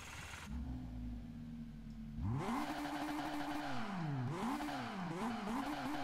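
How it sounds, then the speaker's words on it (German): In the Test Drive Unlimited video game, a Jaguar XJ200 fires up from a steady idle into a loud start, then its engine revs rise and fall in repeated blips, close and continuous with no voices. "Ja, dann starten wir den Wagen doch gleich mal."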